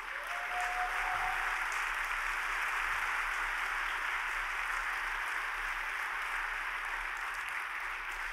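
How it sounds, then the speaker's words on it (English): A lecture-hall audience at a science slam breaks into steady, dense clapping that holds at an even level for the full stretch, with no voices over it. "This should be worth an applause."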